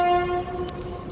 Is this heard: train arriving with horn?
yes